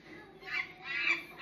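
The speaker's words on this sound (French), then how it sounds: "Alexa fait le bruit d'un chimpanzé." A smart speaker plays a short chimpanzee call of two quick, shrill squawking bursts, quiet and heard alone.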